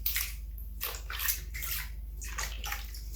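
Hands and feet being washed in a basin of water during a home pedicure, with repeated close splashing and sloshing in uneven bursts, no talking.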